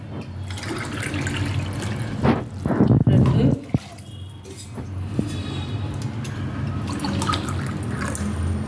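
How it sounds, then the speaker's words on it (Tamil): Water is poured into a pan of wheat rava upma with cooked tomato and vegetables, a short loud splashing burst in the middle, then a quiet simmering hiss, with someone talking over it. "இதுக்கு உண்டான தண்ணி ஊற்றுறேன்."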